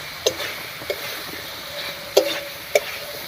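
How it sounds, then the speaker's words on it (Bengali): Fried potato, cauliflower and slit green chillies going into a sizzling spice paste in a pan: a soft constant fry hiss broken by a few sharp scraping clicks from stirring. "এবারে ভেজে রাখা আলু আর কপিটা দিয়ে দিচ্ছি একই সঙ্গে দিয়ে দিচ্ছি কয়েকটা চেরা কাঁচা লঙ্কা"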